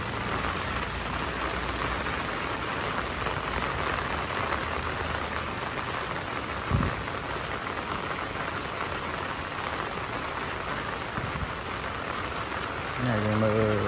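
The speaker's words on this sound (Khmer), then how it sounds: "នេះភ្លៀងខ្លាំងទឹកដក់ឡើងហូរហូរនេះ" Steady heavy downpour hisses across a temple grounds in flooded Battambang, Cambodia, a constant wash of rain with a brief thud midway and a faint voice-like tone at the very end.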